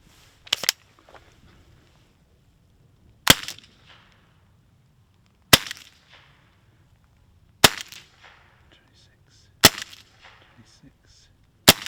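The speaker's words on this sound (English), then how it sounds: "I'm going to try it with the restrictor in place and see what that fires through the chronograph." An HDR 68 gun with a modified pin and a restrictor fires homemade 4.2-gram silicone rounds through a chronograph. Five sharp, close cracks ring out at roughly two-second intervals, each with a short tail of mechanical rattle.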